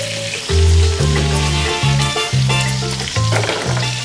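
Shrimp sizzling in a hot pan while pork cooks nearby for a Filipino boodle fight feast, a steady close frying hiss half-buried under loud tonal background music.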